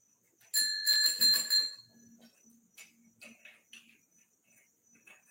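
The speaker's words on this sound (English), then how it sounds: "Now, I could ring this bell to annoy everybody's dogs." A bicycle bell rings in a quick burst of bright metallic dings, close and clear, followed by faint clicks and rattles of handling.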